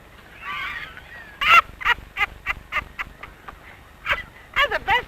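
Birds in a Disney cartoon squawking and honking in a rapid series of harsh, goose-like calls, loud and close, arriving in uneven bursts with brief pauses between them.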